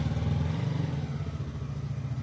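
A motorcycle engine idles with a steady low throbbing pulse, close and fairly loud throughout, on a rainy-season ride from Chakradharpur to Jamshedpur.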